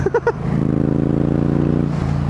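A 2016 Yamaha MT-07 two-cylinder motorcycle engine rumbles loudly while riding, with a few brief blips at the start and then a steady, throaty drone close by that eases off at the end.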